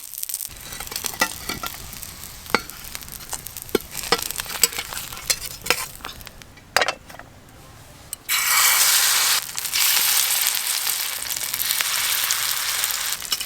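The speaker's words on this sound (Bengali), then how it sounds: "একদম কম আছে কিন্তু ভাজতে হবে, নাহলে সব বাঁধাকপি পুড়ে যাবে।" Cabbage fries in a pan with a scraping spatula, first as scattered stirring clicks over a low sizzle, then as a loud, dense sizzle that swells for the last few seconds.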